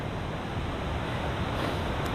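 A river flows beside a mountain hiking trail in the Great Smoky Mountains near Kephart Prong, a loud, dense, continuous rush of water, close by and steady, with no voices.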